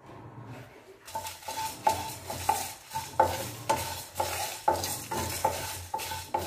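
Dried chillies roast with their stems in a kadai for a mango curry with ajwain, while a ladle scrapes and clinks against the metal in a regular rhythm of about ten strokes over a soft sizzle.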